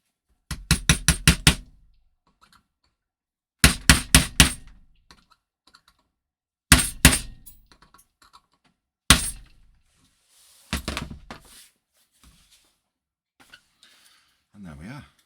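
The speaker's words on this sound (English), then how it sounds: "And then we need to drive the pin back in." Sharp metallic hammer taps drive a pin back into a Mk23 hop unit, struck in several quick bursts of three to six blows with short pauses between them, loud and close, with a brief voice near the end.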